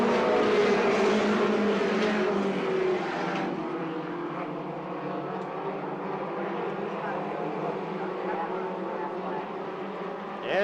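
A field of race cars runs the final lap of an oval race, their engines a dense, steady roar near and far, with an announcer talking over the noise throughout.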